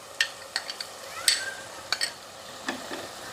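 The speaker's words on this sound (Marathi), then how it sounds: "आता हे वाटण पण तेल सुटेपर्यंत आपल्याला चांगलं परतून घ्यायचंय" Spoon stirring ground masala paste being sautéed in hot oil for vegetable kurma, with a soft sizzle under scattered sharp scrapes and clinks against the pan, no talking.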